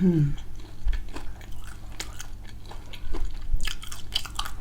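Crispy fried chicken bitten and chewed close to the mic, with sharp crunches and wet mastication sounds repeating steadily, plus a brief hum of voice at the start.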